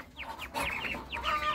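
Chickens cluck in quick, close bursts, a few overlapping soft calls with faint background noise.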